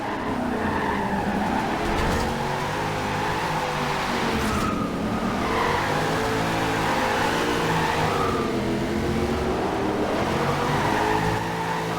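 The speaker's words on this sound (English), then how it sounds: "Without traction control, this thing just wants to spin them tires up and go sideways with a lot of smoke" A 1997 Land Rover Defender 90 drifting without traction control, its engine roaring steadily as the tires spin and skid in a continuous loud screech that rises and falls, close and unbroken, with no talking.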